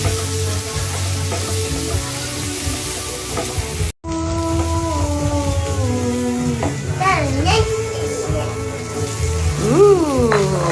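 Steady sizzling of fried rice in a hot wok, with a bright harmonic tone sweeping and wavering over it, continuous and moderately loud.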